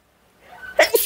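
A single close sneeze from a woman, a short build-up breath followed by two sharp bursts, loud against otherwise quiet indoor surroundings.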